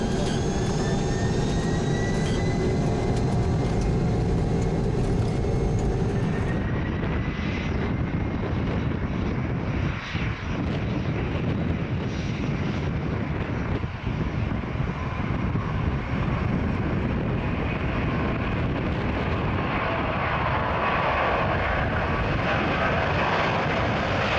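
Jet engines of a McDonnell Douglas DC-10 airliner run steadily, a loud continuous roar and whine heard from close by with no pauses for the whole stretch.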